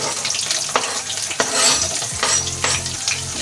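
Sliced onions hiss and crackle loudly in hot oil. The sizzle runs steadily throughout, with a few scraping and stirring accents from the pan.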